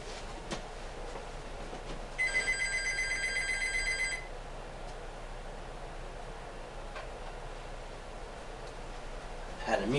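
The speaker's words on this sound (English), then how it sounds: "I got a phone call, y'all." A telephone rings with a short electronic ringtone that repeats for about two seconds, fairly clear over a quiet room background, then stops.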